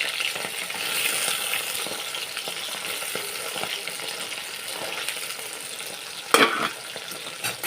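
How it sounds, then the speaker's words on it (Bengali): Bata fish sizzling in hot oil in a pan, four pieces at a time, a steady close crackling fry with a brief louder spatter near the end. "দিয়ে দিলাম মাছগুলো চারটে চারটে করে আর আস্তে আস্তে এপাশ এপিট উপিট করে ভালো মতো ভেজে নেবো"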